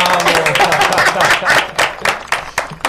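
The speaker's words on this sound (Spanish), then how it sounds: "tú escuchaste esos aplausos" Studio audience applauding after a theatre play presentation, a dense wash of clapping that swells and then breaks into scattered, uneven claps as it tapers off.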